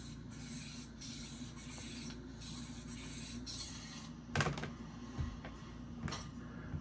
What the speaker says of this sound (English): take the lighter, hold it upside down, and roll it back and forth on your pants a bunch of times